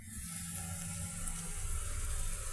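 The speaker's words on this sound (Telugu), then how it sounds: "ఇక షుగర్ని వాటర్తో కరగనిద్దామండి" Water running steadily into sugar in a pan to dissolve it for a sweet syrup, a soft, continuous trickling pour heard alone.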